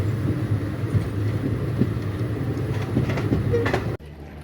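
The Narsapur Express rolls into Nagarsol railway station with a steady rumble and clatter of wheels on rails, with a brief higher squeal near the end before the noise cuts off abruptly.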